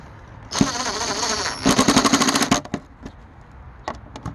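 A power drill driving screws whirs in two loud bursts, the second revving in rapid pulses, followed by a few faint knocks and clicks, while refitting a GMC Envoy or Trailblazer light.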